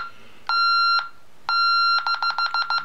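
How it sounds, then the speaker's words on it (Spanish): Honeywell alarm keypad sounding its exit delay warning: two long steady beeps, then a run of quick repeated beeps, loud and close with nothing else audible. "Digamos el aviso sonoro del tiempo de salida."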